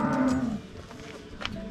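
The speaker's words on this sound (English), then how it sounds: "Look at this cow." A cow on a New Hampshire farm gives a single loud, close moo at the start that trails off, followed by quieter outdoor farm background.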